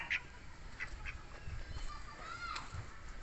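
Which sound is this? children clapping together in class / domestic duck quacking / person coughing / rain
domestic duck quacking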